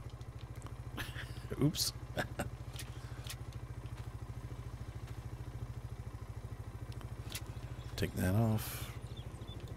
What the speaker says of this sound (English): Oh, I left the bike running.